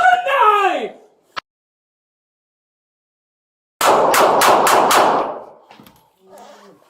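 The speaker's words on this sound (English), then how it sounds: "shots fired" Rapid burst of about five gunshots during a police confrontation with a knife-wielding suspect, loud and close, following a shouted voice and a brief sharp knock, then a few faint trailing sounds.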